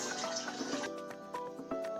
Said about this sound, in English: So I'm going to add a little water to it.